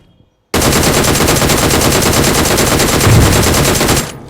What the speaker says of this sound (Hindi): इतने में कोई फायरिंग करता है।